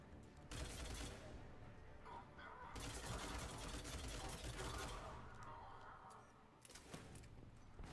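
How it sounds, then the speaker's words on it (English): Sustained bursts of rapid automatic gunfire from the Mass Effect 3 video game, loud dense clattering volleys with brief gaps between them. "Who's shooting at me?"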